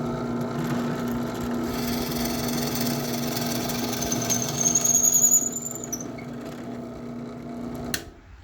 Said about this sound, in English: Now we're going to use this table saw and start cutting all of the individual pieces